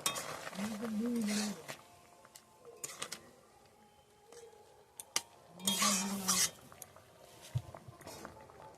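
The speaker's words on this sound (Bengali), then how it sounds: "সব মশলা দিয়ে দিয়েছি, একটু নাড়িয়ে নেব" Spiced egg and potato curry is stirred in a pan, with intermittent scraping and light clinks that come in short bursts while a voice talks in between.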